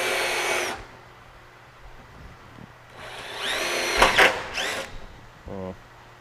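Power drill cutting out spot welds on a 1967 Chevelle body, with a short whining burst at the start and then a longer, louder stretch of grinding drill noise, broken by a quiet pause.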